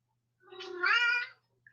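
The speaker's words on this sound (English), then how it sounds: "Can you guys hear him meowing out there?" A cat meows once from another room, a clear drawn-out call lasting about a second that rises and falls in a quiet indoor setting, followed by a tiny chirp.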